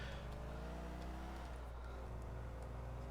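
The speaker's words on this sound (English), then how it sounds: "You can hear the engine like chugging, like screaming in pain." Struggling car engine chugging in GTA 4, a constant low droning hum with a shifting tonal whine, steady and moderately close throughout.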